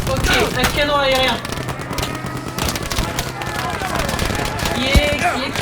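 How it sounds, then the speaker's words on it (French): Anti-aircraft cannon fire in the World War II shooter Battlefield V, a dense burst of booming shots and explosions over wailing battle noise and plane sounds, loud and continuous, with a voice speaking briefly. "Ok, un canon aérien."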